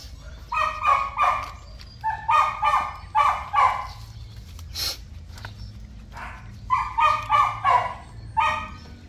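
A dog barks close by and loudly in quick rhythmic volleys of several barks each, with a short pause and a sharp high yelp between the bursts.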